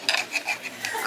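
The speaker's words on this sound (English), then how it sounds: "My wife gets on to me if I run the fork across the plate a certain way or the knife." A fork and knife scrape across a plate at a steakhouse, giving a few short, faint squeaky strokes in quick irregular succession.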